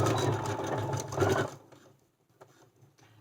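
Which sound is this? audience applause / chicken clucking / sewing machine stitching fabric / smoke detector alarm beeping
sewing machine stitching fabric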